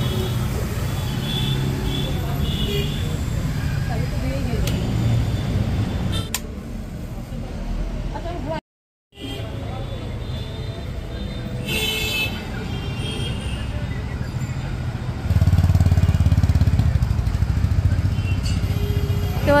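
A motorcycle leaves a Honda BigWing showroom and heads out into city traffic, its engine droning steadily with passing vehicles and horn toots around it, the engine note swelling louder near the end after a brief dropout.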